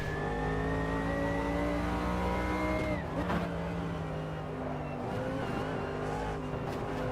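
A race car in a racing video game, its engine note rising and dropping sharply through gear changes with loud revving and a brief tire squeal, close and continuous.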